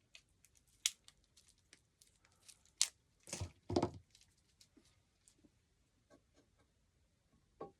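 Scissors snip through pink paper for a craft project in a few sharp, close cuts, with a cluster of louder crunchy snips in the middle and quiet rustling between.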